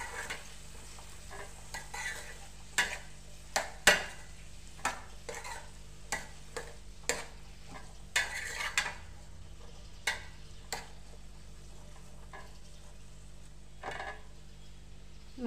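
A spoon scrapes and stirs ivy gourd curry in oily pan, partly covered as it cooks, making a quiet, soft background sizzle broken by a dozen or so sharp, irregular clinks and scrapes against the metal, up close with no talking.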